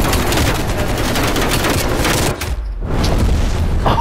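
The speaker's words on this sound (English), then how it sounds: "Enemy napalm strike incoming." Napalm strike explosions in the multiplayer video game Call of Duty: Black Ops Cold War, a loud continuous roar of blasts and fire with a short dip before resuming.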